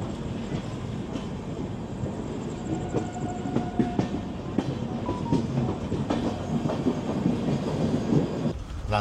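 The Dibrugarh Rajdhani Express, train 20503 from NJP to New Delhi, heard from inside a coach as it runs on the rails, with a constant deep rumble, steady rattling and faint clicks throughout.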